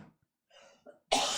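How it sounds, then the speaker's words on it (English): One person clears their throat softly, then gives a sudden, harsh cough close to the mic that stays loud until the end. "I'm gonna cough again."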